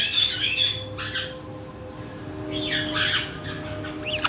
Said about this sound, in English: Goofy birds.